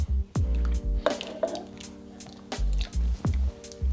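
Diced tomatoes slide wetly into a crockpot of ziti sauce with squishy plops and drips, spoon scraping and soft clatter recurring in short bursts, close and moderately loud.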